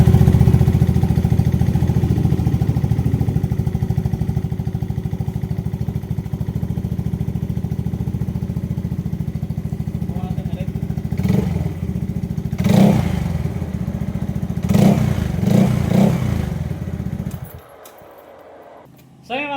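A Yamaha Aerox or NMAX 155 scooter engine with a stalling fault runs at a close, steady idle with a few brief revs and mechanical clatter before it cuts off.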